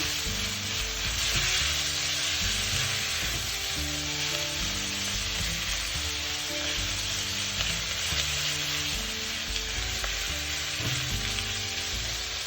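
Pork belly with soy sauce fries and sizzles steadily in a pot, a dense continuous crackle with a low clatter of stirring running beneath it throughout.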